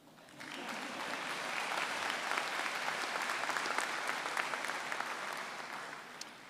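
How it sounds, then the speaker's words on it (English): Sustained applause from a large audience at a university commencement ceremony, swelling quickly then holding steady and easing off slightly, heard from some distance with no talk over it. "You can clap if you want."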